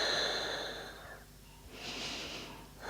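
Steady breathing held through an open-hearted warrior yoga pose, a long drawn breath followed by a softer exhale, close and quiet, with no speech.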